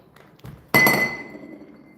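A single sharp glass clink rings out clearly with a sustained ringing tone that fades slowly, preceded by a faint soft knock.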